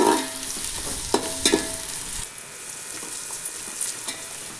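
Three large onions sizzle in hot oil for chicken dum biryani, a bright crackling fry with a few sharp stirring clinks early on, then settling into a softer steady sizzle, with no talk.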